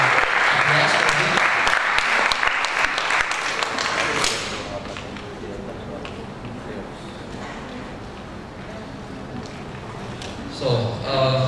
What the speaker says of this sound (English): give applause for him